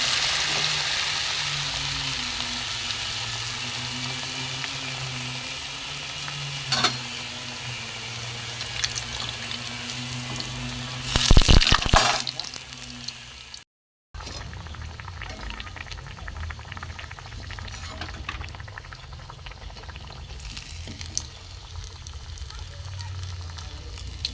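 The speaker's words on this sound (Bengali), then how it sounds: "ওলকপির চপ বন্ধুরা, দিয়ে আমি চামচ করে তুলে গরম তেলে ছেড়ে দেবো।" Kohlrabi chops coated in gram-flour batter frying in hot oil, giving a steady loud sizzle and bubble throughout with a brief clatter in the middle and a short break.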